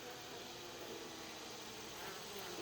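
Honeybees droning softly around a hive frame where a newly hatched queen crawls, a steady faint buzz without pause and no voices.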